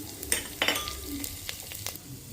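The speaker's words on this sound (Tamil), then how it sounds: "எண்ணெய் நல்லா காஞ்சதும் ஸ்பைசஸ் சேர்த்துக்கலாம்." Whole spices such as bay leaf, cinnamon, cloves and fennel sizzle in hot oil with a soft crackling hiss, punctuated by a few sharp stirring clinks close by.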